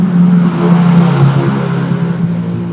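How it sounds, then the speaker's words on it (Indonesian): A motorcycle passes by outside, its mid-pitched engine droning loudly and steadily throughout with a slight rise and fall, no talking over it. "motor lewat ya, motor lewat."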